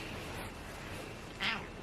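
Cat meowing after waking from a nap indoors, a single short nasal meow late in the clip, brief and moderately loud over a steady background hiss.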